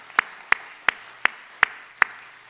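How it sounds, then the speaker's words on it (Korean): Six sharp, evenly spaced claps ring out alone in a church congregation setting, crisp and moderately close, like a slow single pair of hands rather than a full crowd. "박수로 한번 환영하겠습니다."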